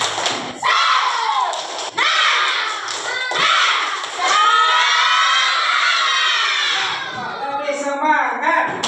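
Indonesian classroom pupils doing a rhythmic spirit clap chant, a burst of sharp claps and young voices shouting together, loud and close, ending in mixed chatter.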